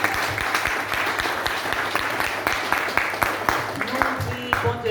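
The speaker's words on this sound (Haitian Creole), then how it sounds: "On nous applaudit" A church congregation claps steadily in a dense, rhythmic burst of applause, sharp hand strikes repeating throughout, with faint voices rising underneath near the end.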